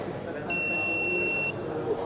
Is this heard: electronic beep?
yes